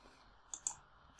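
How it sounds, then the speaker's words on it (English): A few quiet, sharp clicks of a computer mouse, two close together and then a louder one after a short pause, in an otherwise silent room. "Clicking on create"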